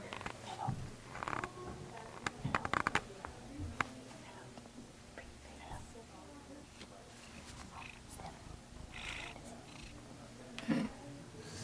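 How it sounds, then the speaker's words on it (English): A bookstore cat purrs softly and steadily nearby, with faint rustling and a few brief background voices. "We found a bookstore cat."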